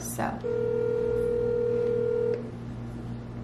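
A phone places a call, giving one long steady tone lasting about two seconds after a brief word of talk, followed by a quieter hum.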